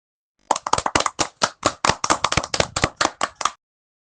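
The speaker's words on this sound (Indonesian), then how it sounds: "Tepuk tangan untuk semuanya." A short round of hand clapping in a classroom lesson, sharp, close, individual claps in a quick irregular run lasting about three seconds and then stopping, with no talk over it.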